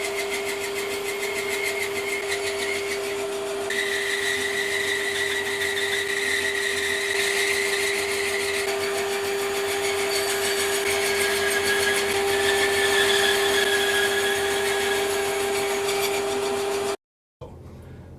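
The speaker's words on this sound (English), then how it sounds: "Now what I'm going to put that through the bandsaw like so, and cut a chamfer off either side." A bandsaw runs with a steady high whine as it cuts a chamfer along each side of a wooden bow handle made of ash, purple heart and hickory. The cutting tone shifts in pitch during the pass and drops out abruptly near the end.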